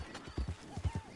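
Horse hooves clip-clop in Red Dead Redemption 2 Online, a handful of quick, close hoofbeats with a short whinny, quiet and alone.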